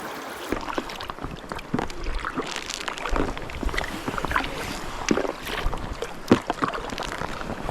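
A packraft is paddled down a river in Montana, with repeated paddle strokes splashing and dipping close by against running water and light wind, and no voices.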